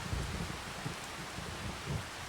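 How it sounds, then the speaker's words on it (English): Rain pouring down in Farming Simulator, a dense even hiss with low rumbles underneath, steady and close throughout. "My goodness, it's the rain."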